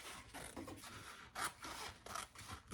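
Excess fabric is trimmed off the bottom of a crossbody sling bag near a zipper pocket, giving a run of close, scratchy cutting and rubbing strokes in uneven bursts, with one sharper snip partway through.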